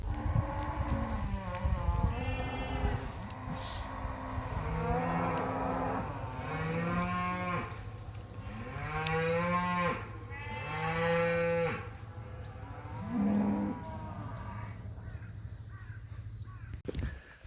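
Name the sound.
cattle mooing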